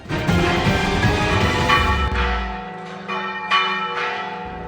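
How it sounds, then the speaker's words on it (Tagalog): A large church bell of Holy Trinity Parish in Loay, Bohol rings out for Easter with rich, resonant tones, several strikes decaying and overlapping, loud and clear with no voices. "Pinatunog ng kampana ng Holy Trinity Parish sa Luay, Bohol sa pagdiriwang ng Pasko ng Pagkabuhay."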